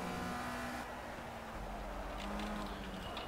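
A race car engine in the Project CARS video game drones steadily through a practice lap, holding a continuous tone with a slight shift in pitch partway through. No one speaks.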